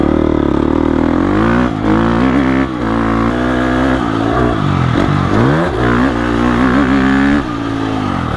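Husqvarna FC 350 dirt bike engine revving hard and dropping off over motocross jumps and landings, a loud close buzzing roar rising and falling with throttle, no voices.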